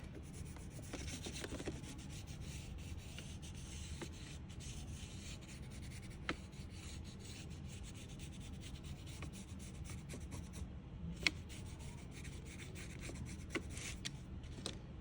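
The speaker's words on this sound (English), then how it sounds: "Kind of pressing down hard and I'm rubbing it. And those pastels are really blending and looking good." Fingers press hard, rubbing and smudging pastels across paper to blend a heart drawing for a kids' art project. The sound is a faint, continuous scratchy rub with a few small ticks, and no one talks.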